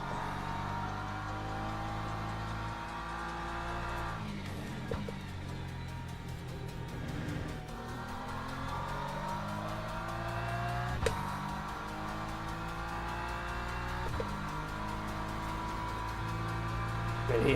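A Ferrari race car roars past in Le Mans Ultimate, engine notes rising and falling through gear changes alongside other cars, with a steady drone throughout.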